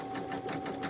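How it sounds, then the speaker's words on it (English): Embroidery machine with a Sewtech hoop stitching out a design, a steady fast rhythmic whirring and needle chatter throughout, close and continuous, no talk. "So y'all have got to see it stitch out in real time."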